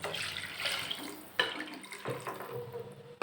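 Water pours in a steady splashing stream into a pot of samba wheat rava, with a brief clank partway through and the flow continuing briefly before stopping.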